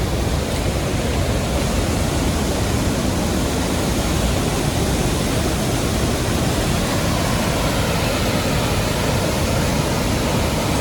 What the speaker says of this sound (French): On approche là, de la chute là, parce que je l'entends